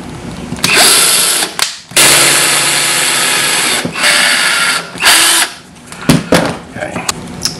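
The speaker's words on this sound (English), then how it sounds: "and then we're drilling the corners." A power drill whines loudly in several bursts of varying length, drilling the corners of a paper-templated piece, stopping and restarting with short pauses between, close by.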